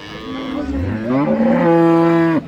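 A Friesian cow with her calf at the Ambari cattle market in Dinajpur lets out a single long, loud moo close by, rising and holding steady before stopping abruptly, with no talk over it.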